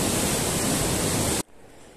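The Parvati River rushes nearby beneath snowy peaks on the Kheerganga trek, a loud, dense, steady roar of flowing water that cuts off abruptly, leaving faint low background noise.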